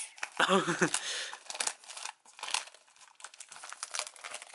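A plastic bag wrapped around a photobook-version album crinkles close to the mic in a sharp burst, followed by softer intermittent rustling and handling noises.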